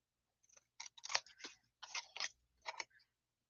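Scissors snip card stock in a run of quick, crisp cuts in short clusters, close but quiet against near silence, with no talking.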